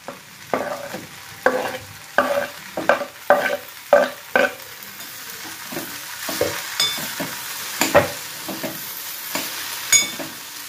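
Tomatoes are stirred into softened onions frying in a pan, with repeated scraping strokes of a spoon over a soft sizzle, loud and close at first, then lighter and more scattered.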